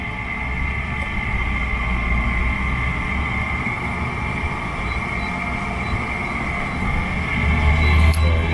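Two air conditioners powered by a Bluetti portable power station hum together in a steady, close mechanical drone with constant fan noise throughout and no speech.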